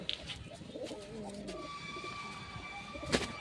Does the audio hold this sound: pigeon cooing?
yes